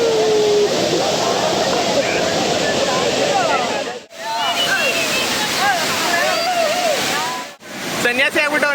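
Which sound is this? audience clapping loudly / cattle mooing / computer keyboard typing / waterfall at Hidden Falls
waterfall at Hidden Falls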